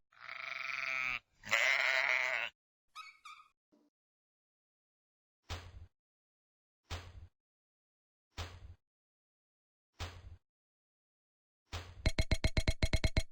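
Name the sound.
sheep bleating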